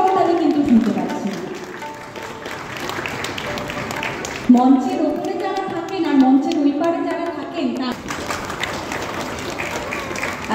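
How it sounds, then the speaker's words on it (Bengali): A small audience claps at a classical music concert in Panihati, giving thin, scattered applause that rises and falls while someone speaks over it on a microphone. "যতজন মানুষ আছেন ততজনের করতালি কিন্তু শুনতে পাচ্ছি"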